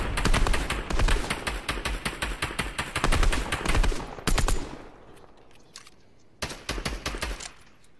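Rapid bursts of gunfire from a Fortnite-style online shooter, dense volleys of close, loud shots for several seconds, a brief pause, then another cluster of shots, with no talk over them.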